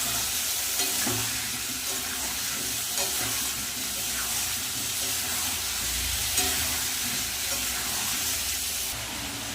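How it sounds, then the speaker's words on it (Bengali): Ground spice paste fries in a pan over lightly fried papaya and potatoes with a loud, continuous hiss, and a few soft stirring scrapes come through close up. "এবার দিয়ে দেবো বেটে রাখা মশলাটা ভালো করে কষিয়ে নেব"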